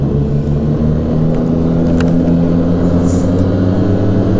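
A 2016 Arctic Cat Pantera 3000 snowmobile with a 700cc engine pulls away under steady throttle, giving a loud, continuous low drone with no break.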